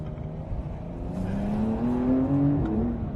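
A Porsche 911 Carrera with a PDK gearbox accelerates hard, its engine note climbing steadily in pitch and then dropping with quick blipped downshifts, loud and close with no talking.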